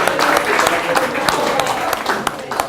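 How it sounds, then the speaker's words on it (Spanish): Audience clapping for coaches at a body-language and NLP workshop, loud and close with distinct individual claps over crowd murmur and voices. "Listo, un aplauso. Agradezcan a sus coaches."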